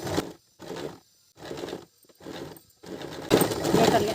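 A machine stitches a woolen salwar, making a securing stitch in short, rhythmic bursts with brief gaps between them. The final run is longer and louder.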